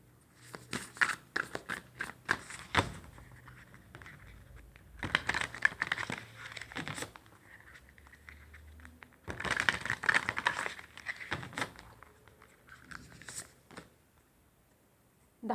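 Oracle cards handled and shuffled at close range, coming in clustered bursts of papery rustling, flicks and soft snaps separated by brief quieter pauses, with no talking.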